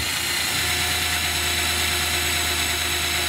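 A steady motorized whine of a power drill running continuously, drilling a hole in an aquarium, loud and close, with a constant hum throughout and no talking.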